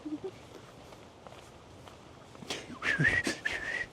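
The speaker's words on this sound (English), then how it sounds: "That bird keeps whistling at my woman." A bird whistles a few thin, high notes late in the clip, clear above soft background rustling and faint footsteps.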